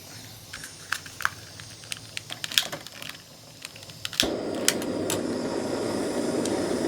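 Scattered clicks and taps give way to a steady, moderately loud hissing burn from a Jetboil Stash backpacking gas stove at full throttle that continues to the end.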